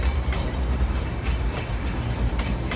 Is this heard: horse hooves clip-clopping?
no